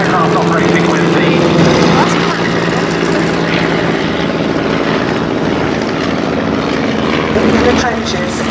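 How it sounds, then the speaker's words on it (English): World War One propeller aeroplanes flying an airshow display at Duxford give off a loud, steady engine drone that lasts throughout, with a crowd or commentary voice faintly audible underneath. "What you're about to see above you is what you would see with these aeroplanes from the docking, the diving, and very close formations."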